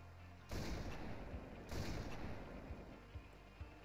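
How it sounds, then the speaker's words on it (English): Two loud, booming sniper rifle shots in Halo CE ring out about a second apart, each with a long decaying echo, followed by a couple of faint distant pops. "The Halo 1 sniper has a very fast rate of fire"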